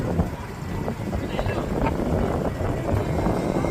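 Constant rumbling engine drone with wind buffeting from a motorboat approaching at a floating market in Thailand, steady and loud throughout.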